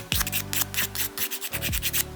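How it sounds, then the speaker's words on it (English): Rhythmic rubbing strokes of a nail file buffing fingernails before applying press-on nails, repeated short scrapes with no talk. "buff out your nails, and I'm just going to use the nail file that came in the application kit"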